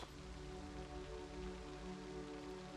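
Rain falls steadily in the video game Project Zomboid, a continuous faint hiss of drops on surfaces with no pauses or voices.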